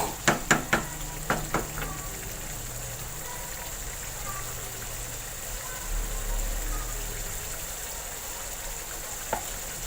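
Diced potatoes fry in a spiced masala in a home kitchen pan, a steady soft sizzle with a few sharp clinks of a spoon stirring near the start.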